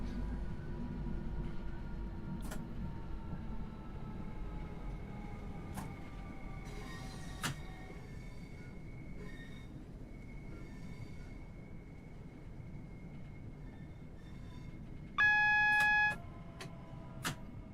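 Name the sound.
train braking to a stop in a video game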